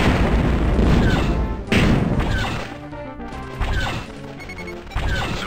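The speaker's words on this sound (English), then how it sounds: "I'm just gonna destroy this Y-wing." Y-wing blown apart in the TIE Fighter space combat game: a series of heavy booming crashes and blasts, several loud explosive bursts separated by brief gaps, with no talk.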